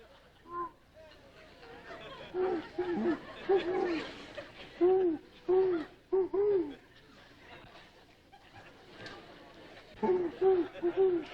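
A man imitates an owl with his voice, giving a series of hooting calls in short rhythmic bursts, with laughter and murmuring from a studio audience between them.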